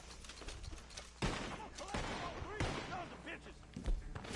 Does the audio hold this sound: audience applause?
no